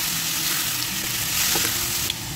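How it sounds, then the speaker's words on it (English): Garlic, chili and seafood stir-fry in a hot pan, a steady loud sizzle running throughout with a few light scrapes and clinks of turning near the end. "Then add garlic, followed with chili, fry until fragrant. Next, add seafood and turn over a little bit."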